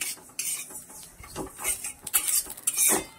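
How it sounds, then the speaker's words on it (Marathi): Kala masala spices stirred fast in a hot kadhai, a spoon rapidly scraping and clinking against the metal pan with irregular clattering strokes, close and fairly loud, with a faint sizzle. "पाहू शकता मी अगदी फास्ट मध्ये हलवून घेत आहे."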